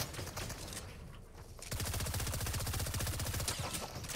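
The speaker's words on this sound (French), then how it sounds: "mais en plus ils me tirent dessus." Rapid automatic gunfire from enemies in the video game Fortnite rattles in sustained bursts, briefly pausing before a loud, dense stretch of fast repeated shots, with no talking.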